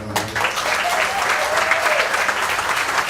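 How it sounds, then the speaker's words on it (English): An audience at the Michigan Irish American Hall of Fame 2018 ceremony gives Neil a round of applause, a close, full burst of clapping that carries on steadily through the moment. "Can we have a round of applause for Neil?"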